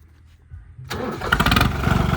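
A 50 HP New Holland 3630 tractor with an AC cabin starts up: near silence, then a loud crank that catches at about a second into a rough, pulsing diesel idle, close by.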